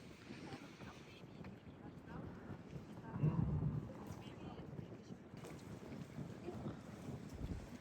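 Steady wind buffeting the microphone with a low, rumbling roar on a beach in Germany, and brief voices talking partway through; the gusts swell slightly near the middle.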